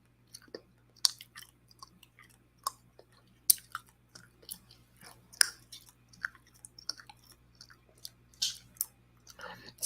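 Chewing gum worked close to the mouth, with wet chewing broken by scattered sharp snaps and clicks in an uneven rhythm against a quiet background.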